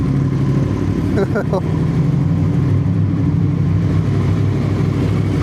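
A Yamaha YZF-R1 sport motorcycle engine in pristine condition turns over briefly, then settles into a steady, loud idle that runs throughout.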